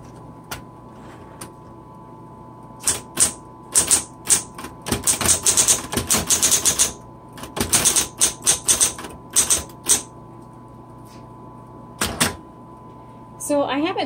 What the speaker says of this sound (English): So let's go ahead and type and see how she does.